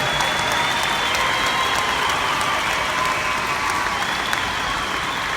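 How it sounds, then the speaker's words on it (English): Sustained applause from a large audience at a Palo Alto College graduation ceremony, honoring the graduates; dense, steady clapping fills the whole stretch with a few faint cheers mixed in. "give our graduates a round of applause"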